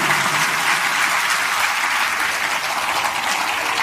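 Steady, dense applause from an audience at a devotional satsang gathering, a continuous wash of clapping filling the whole stretch at an even level with no voices over it.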